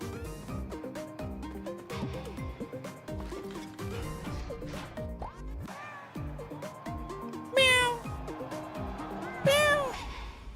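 Cartoonish cat meows and yowls ring out in a game trailer, set over bouncy music with plucky rhythmic notes, with two sharp, louder cat cries near the end.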